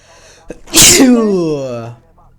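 A single loud sneeze, close by, with a sharp burst followed by a long voiced trailing tone that fades out.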